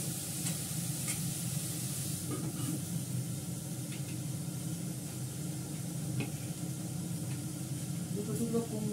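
Fish with green chillies stir-frying in a pan, a steady sizzle with scraping stir sounds running throughout at a close, even level.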